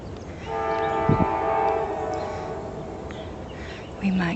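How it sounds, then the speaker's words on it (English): A train passes near a backyard pond with bird feeders, sounding a loud sustained horn blast over a rumbling roar that fades, with a brief voice toward the end. "Maybe not because of this damn train coming."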